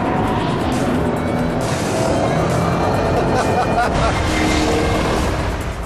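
A 2007 Ford GT500 oversteers hard through a corner, its tires squealing over a loud, steady engine roar that stays close and continuous throughout.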